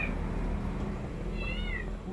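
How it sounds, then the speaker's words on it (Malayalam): A house cat, drawn by the smell of fish being cooked for a fish fry, lets out a single short meow over a low kitchen hum, fairly faint and a little distant. "പൂച്ച കരയാൻ തുടങ്ങി. പൂച്ചയ്ക്ക് മീനിൻ്റെ മണം കിട്ടി."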